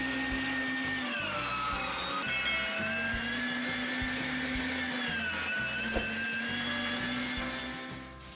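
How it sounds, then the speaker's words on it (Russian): A meat grinder with a fine sieve mincing soaked chickpeas, a steady loud motorized whir with a strong tonal hum that shifts pitch slightly as the load changes, running continuously without talk. "Измельчаю вымоченный нут на мясорубке с мелким ситом."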